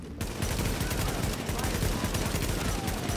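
Sustained gunfire from the video game Tom Clancy's The Division, a dense continuous burst of rapid shots lasting throughout, loud and close, with a voice speaking faintly underneath.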